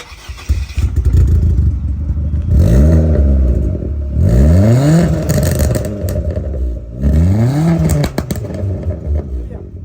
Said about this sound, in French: Tu peux nous la démarrer Loulou avant qu'on aille faire l'essai